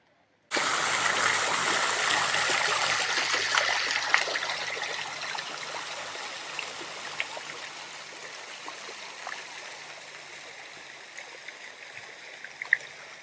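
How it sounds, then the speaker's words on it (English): Water fountain splashing in Kikko Park, Iwakuni, a steady bright rush that starts abruptly after a moment of quiet and holds loud and close, easing slightly over time. "here at Kikko Park, there's a really cool water fountain"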